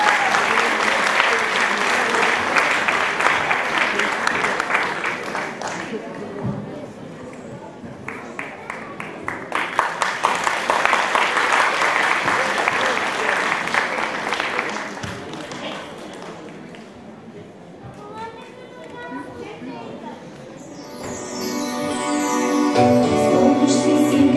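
Concert audience applauding the performing girls at a show, sustained dense clapping that swells and fades in waves, followed by music starting up near the end.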